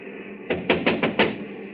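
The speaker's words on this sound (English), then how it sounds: "First of all, we'll try rapping on the door." Someone raps on a door in a radio drama, five sharp, evenly spaced knocks against a faint hum of background noise, close and clear with no voices.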